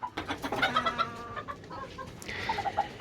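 Chickens cluck close by in a quick, uneven series of short calls, with a faint higher squawk near the end.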